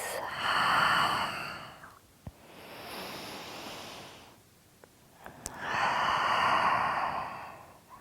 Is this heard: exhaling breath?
yes